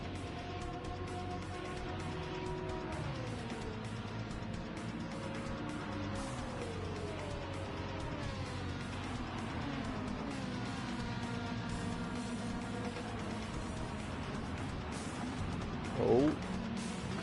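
Ferrari race car engine roaring through a Gran Turismo 7 race, a steady droning whine with shifting pitch as it accelerates and brakes, continuous and fairly loud, with a brief sharp bump near the end.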